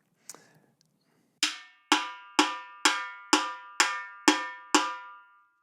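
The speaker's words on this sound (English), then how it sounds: "the second sound is this rim shot at the edge, where the stick is touching both the rim and the head at the same time" Samba repique drum rim shots, the stick striking rim and head together: one isolated hit, then seven sharp, bright, ringing cracks at an even, steady pulse, close and alone.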